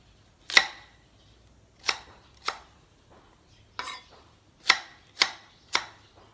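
Seven crisp knife chops through carrots on a cutting board, close and distinct, spaced irregularly with quiet pauses between them.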